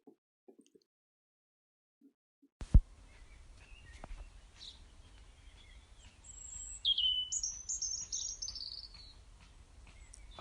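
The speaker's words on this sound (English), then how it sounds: "birdsong. I do like birdsong." Birdsong, a few high chirps and trilling calls at moderate distance over a faint, steady outdoor hiss, growing busier toward the end.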